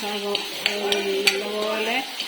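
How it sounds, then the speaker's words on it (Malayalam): Tomatoes frying in ghee and oil for tomato rice sizzle steadily in a pan while a utensil stirs them, with soft scraping knocks every half second or so. "അതുവരെ നമുക്ക് ഇടയ്ക്കിളക്കി ഇങ്ങനെ കൊടുത്തോണ്ടേ ഇരിക്കണം."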